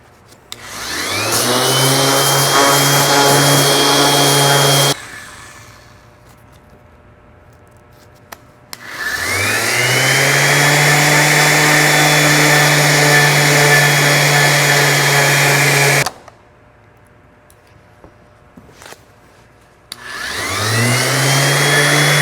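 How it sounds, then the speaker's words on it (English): Power sander working the edges and sides of a cast resin art block encasing a Star Wars TIE Fighter, using fine sandpaper up to 1200 grit; a loud steady whine runs in three long bursts separated by quiet pauses. "I've sanded the block, the sides and the edges down to about 1200 grit"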